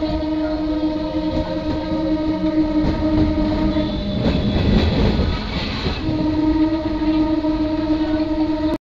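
MEMU local train arriving at a junction station in India, a steady loud rumble of wheels and traction hum with clickety-clack, swelling briefly in the middle as carriages pass close by.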